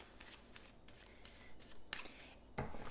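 Tarot cards being shuffled and handled in a quiet room, with a steady papery riffling and a few sharper slaps and flicks near the end.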